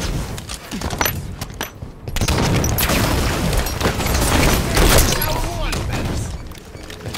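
Enemy gunfire and explosive booms in a video game raid, heavy and sustained, with dense shots crackling close over chaotic in-game noise.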